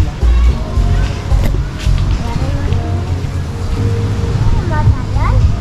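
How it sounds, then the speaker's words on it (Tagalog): Strong ocean waves at a beach resort in La Union surge and wash in gusty bursts, mixed with heavy wind buffeting the microphone, loud and close throughout. "Pero sobrang lakas na ng alon ngayon"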